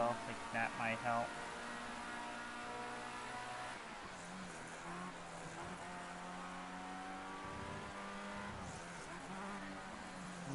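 Formula Ford race car on track with a continuous engine drone that shifts pitch as the car downshifts while climbing a hill. The engine is heard from onboard, and talk runs over it.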